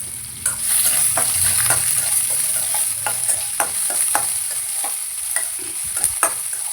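Onion and green chilli sautéing with chana dal in hot oil, a steady close sizzle broken by repeated scrapes and clicks of a spoon stirring the pan, with no voices.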